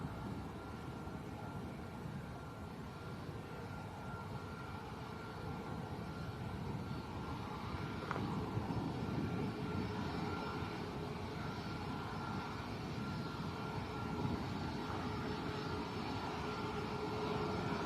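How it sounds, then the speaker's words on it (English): A Boeing 737 Max 8 taxis at Lanzarote Arrecife Airport, its engines giving off a steady, broad distant roar that swells slightly partway through, with no voices. "a Max 8. It's currently taxiing at 29 miles an hour according to flight radar"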